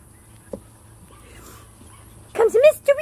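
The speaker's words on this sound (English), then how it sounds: "Now you're barking at me." A Havapoo dog gives a few short, high yips and barks in quick succession near the microphone, following a quiet stretch with a single soft sound.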